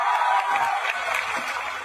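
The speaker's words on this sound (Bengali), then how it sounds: "এটা জেনে আমরা এখন জোরে একটা হাততালি দিতেই পারি।" Loud audience clapping and cheering at a student festival in Debidwar, a dense burst of applause from a large crowd filling the hall steadily.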